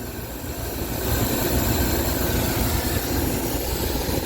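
A Dodge conversion van engine, just restarted after a cylinder head replacement, idles smoothly and steadily with a low, even rumble, close and continuous with no misfire, a check engine light reportedly on.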